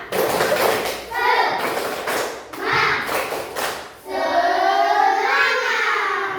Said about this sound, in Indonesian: Lesu, tepuk semangat.